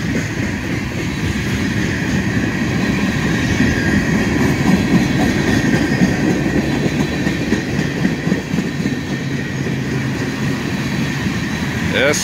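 A Union Pacific freight train with gondola cars, including a Southern Pacific gondola, rolls steadily past on a gentle downgrade, producing a loud, continuous rumble with rhythmic wheel clatter and faint squeal.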